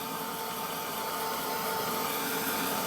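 A heat tool blasts hot air over gesso-coated craft pieces to dry them, a steady close, loud whooshing roar with a faint motor whine that stays constant throughout, no voices.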